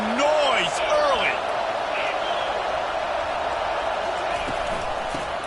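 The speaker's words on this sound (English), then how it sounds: "This crowd bringing the energy and noise early." A college football stadium crowd roars in a steady, dense wash of cheering and noise, with a few whistles or shouts rising briefly near the start.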